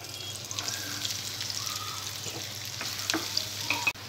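Onion pieces fry in hot oil with cinnamon stick and bay leaf, a soft continuous sizzle with light stirring scrapes and a sharp clack near the end.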